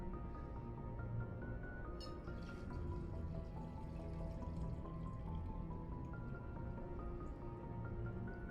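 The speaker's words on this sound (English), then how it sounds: "I need to refill my glass of water." Water poured to refill a drinking glass, a quiet trickle with soft drips that runs steadily over a continuous background, with no talking.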